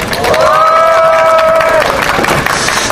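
Audience at a talk event clapping and cheering together, a dense loud burst of applause with a brief whistle or shout rising over it before it thins out.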